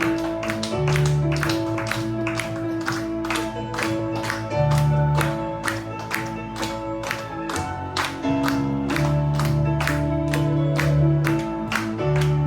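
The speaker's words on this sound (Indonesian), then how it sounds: "Tepuk tangan lo buat Tuhan kita. Even applaus voor de Heer." A church congregation at a worship service claps in a steady, even rhythm to praise God, the beat sitting under sustained band music with bass and keyboard tones throughout.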